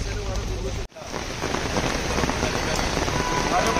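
Heavy rain pours steadily onto a road in Mahabaleshwar during monsoon downpour, a dense close hiss that drops out for an instant near the start before resuming; a voice is faintly present.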